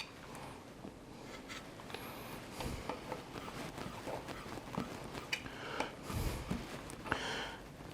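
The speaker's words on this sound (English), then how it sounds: "I'm going to take just a small amount, chop them pretty finely" A knife that is not meant for chopping cuts hard-boiled egg whites finely on a board as hors d'oeuvres are prepared. Faint, irregular taps and scrapes come up close, with a few louder knocks among them.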